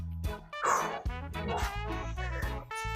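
A 14-week-old puppy yips and barks repeatedly nearby, with whiny, high-pitched bursts in quick succession.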